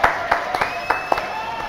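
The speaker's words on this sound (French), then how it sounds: "Applaudissements pour Violaine." A studio audience applauding on a French TV show, a short burst of scattered, uneven claps with a light crowd murmur beneath.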